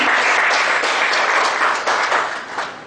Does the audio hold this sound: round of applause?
yes